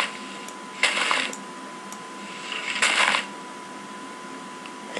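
Skeleton bones rattling in a Minecraft survival game, two short dry clattering bursts about two seconds apart over a quiet steady background hum.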